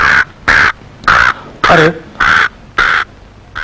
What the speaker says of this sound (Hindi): कौवा कहाँ कर रहा है?